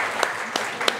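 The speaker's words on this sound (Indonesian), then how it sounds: "Tepuk tangan Bapak-Ibu semuanya." An audience of teachers at a numeracy teaching session claps together, dense applause with a few sharper individual claps standing out, brief and fairly loud.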